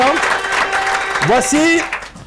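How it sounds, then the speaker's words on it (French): Applause rises from a crowd while a voice talks and calls out over the clapping, which runs throughout. "Applaudissez pour lui."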